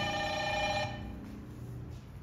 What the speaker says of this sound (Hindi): देखिए फ़ोन आ गया